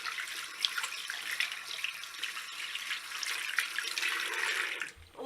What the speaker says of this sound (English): now I'm just going to wash my hands